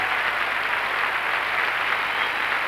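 Arena applause at the 1984 World Figure Skating Championships in Ottawa, a continuous wash of crowd clapping at steady loudness, heard as a distant, even roar.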